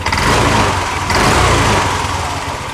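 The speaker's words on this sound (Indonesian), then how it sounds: "Cuman kalau saya gas saat ini" A Yamaha Lexi scooter with a stumbling idle and a warning light left on is revved with the throttle, its engine loud and close, surging and holding steady through two throttle pulls without faltering.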